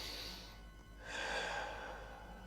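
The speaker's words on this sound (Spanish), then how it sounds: "Si quieres acompañas con la respiración por la nariz." Someone draws a slow breath in through the nose, a soft, close airy inhale that swells and then fades, with no talking.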